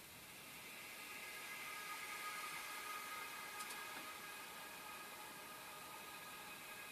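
An atmospheric noise effect from an electronic studio track, a steady wash of broadband hiss with faint tonal lines running through it, sustained at an even level for several seconds without voices.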